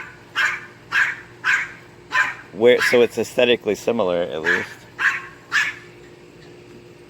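A dog barks in a backyard in short, evenly spaced bursts, with a person talking over the middle stretch while the barking carries on around the voice.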